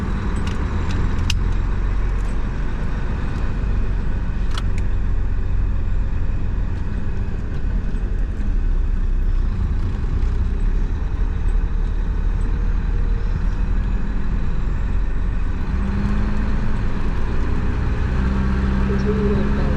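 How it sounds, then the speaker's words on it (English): A truck running smoothly on Valdosta Road, with no sputtering, gives a steady low engine drone and road rumble that lasts throughout, while a voice talks over it. "Whole truck's running good."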